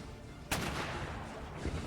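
Cannons fire in Empire: Total War, a sudden loud boom followed by a rumbling tail and a softer second report near the end.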